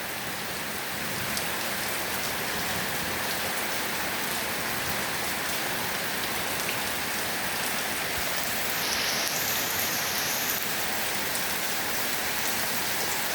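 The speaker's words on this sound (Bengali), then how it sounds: "এরকম বৃষ্টির মধ্যে ভিডিও করতে অনেক ভালো লাগতেছে" Heavy rain falls steadily through the night, a dense, even hiss of drops on surfaces that stays loud and unbroken throughout, with no voices.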